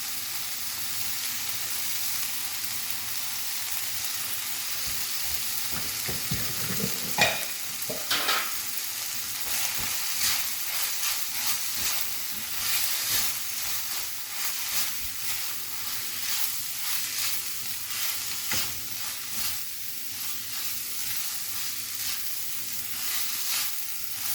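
Grated coconut frying and being stirred in a pan while cooking a home lunch of sambar, a steady close sizzle broken by scraping stir strokes and a few louder crackles, with no talking.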